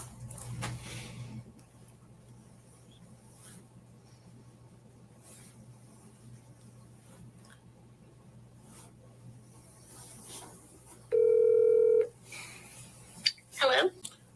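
A telephone call being placed during a police interview: a single steady electronic line tone rings out for about a second, clear over quiet room hiss, followed by a brief click.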